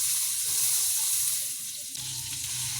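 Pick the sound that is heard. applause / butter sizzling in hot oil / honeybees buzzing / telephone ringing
butter sizzling in hot oil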